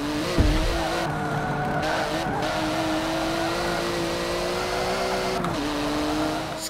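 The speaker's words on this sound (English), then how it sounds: "I think how it spits when it downshifts" A race car in Forza Motorsport 7 holds a steady, loud engine tone with tire squeal, and its pitch drops in two downshifts marked by brief pops and spits from the exhaust.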